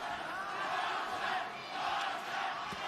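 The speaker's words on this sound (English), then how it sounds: "the majority of the crowd is on their feet and the chant of Loma has gone up here in New York" A boxing crowd in New York chants "Loma" for Lomachenko during a late-round fight with Pedraza, a dense, sustained roar of many voices swelling and dipping in a steady chant.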